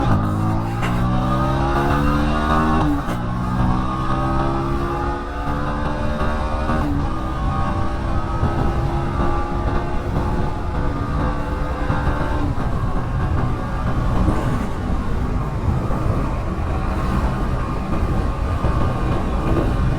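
A motorcycle in a top speed test accelerates hard through several gears, engine pitch rising and dropping at each shift, then settling into a sustained high-speed drone with wind noise.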